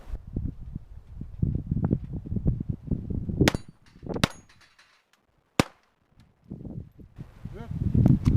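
A Ruger SR22 pistol firing CCI Velocitor .22 LR rounds, heard as a few sharp, loud cracks spread across the stretch, mixed with mechanical clanks and someone talking before and between the shots.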